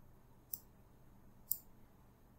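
Two crisp computer mouse clicks, about a second apart, sound close and faint over a quiet background hiss while someone navigates Microsoft Outlook.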